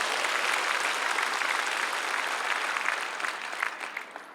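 A church congregation at a peace and unification prayer rally applauds loudly and densely, a thick wash of many hands that gradually thins and fades near the end.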